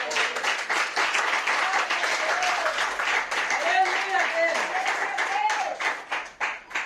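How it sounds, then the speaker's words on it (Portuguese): A church congregation claps along for Jesus during a Portuguese-language sermon, a steady wash of many hands under continuous singing or chanting voices that carry through the whole stretch. "Bate as palmas para o Senhor Jesus."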